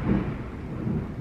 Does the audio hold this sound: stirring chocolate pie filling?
no